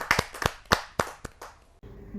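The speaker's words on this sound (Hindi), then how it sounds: "जो जोरदार तालियों के साथ हम उनका स्वागत करें।" A few sharp, irregular claps at a poetry gathering ring out close by, then stop, leaving quiet room tone.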